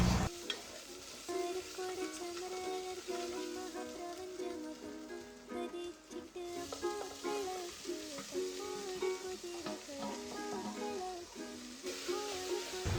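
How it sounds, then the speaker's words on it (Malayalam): Continuous sizzling of onion, tomato, green chili and ginger-garlic paste sautéing in hot oil, with occasional stirring scrapes, steady and close, no talking. "സവാള, തക്കാളി, പച്ചമുളക്, ഇഞ്ചി വെളുത്തുള്ളി പേസ്റ്റ് ഇതെല്ലാം കൂടി ഒന്ന് വഴറ്റണം"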